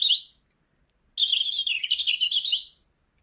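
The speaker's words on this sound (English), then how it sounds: "We're going to listen to the birds." Small birds singing outdoors: a short bright chirp, a pause, then a longer rapid twittering phrase, clear and fairly close with a quiet background.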